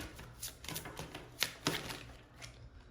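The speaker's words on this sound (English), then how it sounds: "I'm gonna shuffle these back in" A deck of cards is shuffled close by, a soft riffling rush broken by a few sharper snaps, fairly quiet and with no talking.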